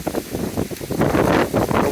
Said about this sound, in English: It's just really, really windy.